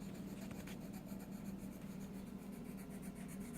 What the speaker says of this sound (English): now just shade down